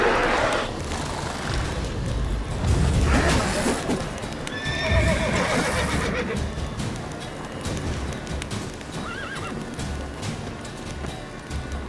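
A horse in the video game The Witcher 3 whinnies loudly over the clop of hooves on the ground, with fainter bird-like honks and ambient game sound underneath and no talking.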